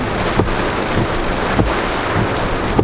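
Heavy rain pours outdoors in India as a loud, steady hiss across the whole span. Occasional heavier spatters and thumps punctuate the downpour, and no one speaks.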